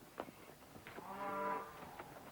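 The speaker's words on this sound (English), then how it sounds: "Stacey's family own a ranch, known in Australia as a cattle station." Cattle on an Australian cattle station give a single drawn-out moo, fairly faint and somewhat distant, with a few soft knocks and rustles around it and no talking.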